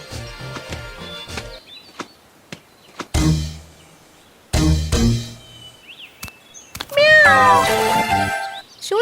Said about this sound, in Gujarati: મારા જીવની પાછળ એક બિલાડી પડી છે.